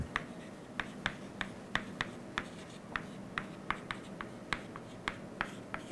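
Chalk or pen strokes writing out an equation during an engineering lecture on dimensional stability derivatives: a quick irregular series of sharp tapping and scratching strokes, fairly close, over a low room hum with no talking.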